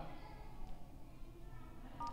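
Keypad tones sound as a code is entered on a Samsung phone dialer, a steady run of beeps near and clear beneath a faint background hum, with a brighter tone near the end.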